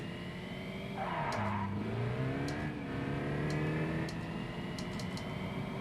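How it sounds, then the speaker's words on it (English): Mark 1 Golf with its original engine in the BeamNG driving game, revving in several rising and falling sweeps with sharp clicks between them, fairly quiet overall. "Sounds like it's got the original engine."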